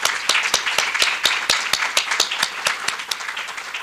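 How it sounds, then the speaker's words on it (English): Audience at a Board of Education meeting claps for award recipients, a steady, fairly loud round of applause with distinct individual claps repeating rapidly throughout, no voices over it. "Let's just give one more round of applause for all of the award recipients tonight."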